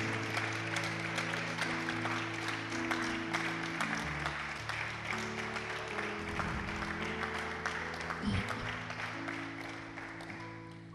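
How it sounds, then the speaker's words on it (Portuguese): A church congregation claps loudly and steadily, a dense sustained wash of applause running the whole time, with sustained musical tones underneath. "Aplauda fuerte."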